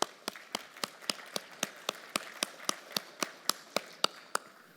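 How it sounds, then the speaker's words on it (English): Steady, evenly spaced claps ring out about four times a second from a conference room as first-time attendees of a city economy conference are recognised, fairly faint, with no talking over them. "Let's give them a round of applause"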